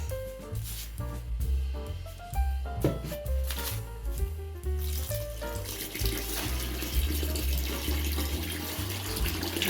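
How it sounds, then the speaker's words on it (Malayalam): Fresh water is poured over freshly made ada in a kitchen and drained off to rinse and cool them. A splashing, rushing wash of water builds in the second half, with clinking and handling before it. "പച്ചവെള്ളം ഒഴിച്ച് രണ്ട് മൂന്ന് പ്രാവശ്യം ഊറ്റണം"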